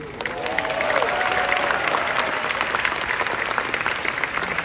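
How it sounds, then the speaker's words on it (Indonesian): Steady applause from a crowd, a dense patter of clapping that holds at full strength throughout. "Tolong Bapak Ibu kasih tepuk tangan yang luar biasa ya."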